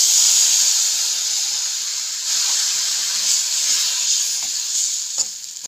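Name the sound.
stirring gram flour mixture with milk cream in a pan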